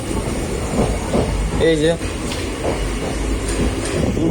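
Inside a moving passenger train carriage, nearly empty because it was chartered: a steady rumbling drone with faint rhythmic rail clatter runs throughout, close and continuous, while people talk over it.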